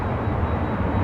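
An Iberia airliner taxis at Los Angeles International Airport, its engines producing a steady low rumble that holds at a constant level over a brief moment, with no voices.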